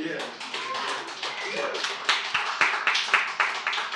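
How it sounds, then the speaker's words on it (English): Congregation in a church service clapping, scattered and uneven at first then building into sharper, louder claps, with voices and murmuring mixed in throughout. "You could clap for that."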